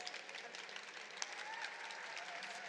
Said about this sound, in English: do give it a round of applause